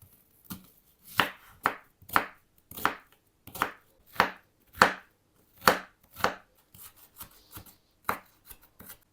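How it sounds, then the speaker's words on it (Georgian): A knife chops one onion on a board for a classic mushroom julienne. Around a dozen crisp, evenly spaced cuts sound close and clear, then lighter, quicker taps follow at the end, with no speech. "დავჭერთ ერთი თავი ხახვი."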